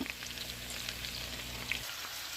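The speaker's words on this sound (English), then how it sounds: "I'm going to put my aromatics in there and just let them get a little soft for a bit." Aromatics sizzle in a pan alongside chicken adobo, a soft, steady crackle of frying oil with scattered pops, heard close and alone.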